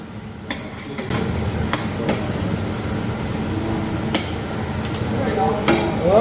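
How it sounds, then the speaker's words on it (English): Onions softening in a pan for Swiss-style onion soup, a steady close sizzle with scraping stirring strokes and occasional sharp utensil clicks against the pot, no talking. "the onions are becoming softer. Okay? So they're starting to cook already."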